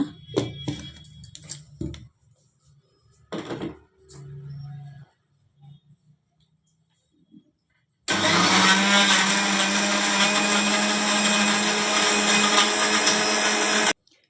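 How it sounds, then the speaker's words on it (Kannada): A mixer grinder blends cream with cold water for homemade ghee. It starts suddenly after some quiet handling noises and then runs as a loud, steady whir for about six seconds before stopping. "ಸ್ವಲ್ಪ ಕೋಲ್ಡ್ ನೀರು ಹಾಕ್ಕೊತೀನಿ ಸಾಕು ಈಗ ಇದನ್ನ ಮಿಕ್ಸಿಗೆ ಹಾಕ್ಕೊಳ್ಳೋಣ"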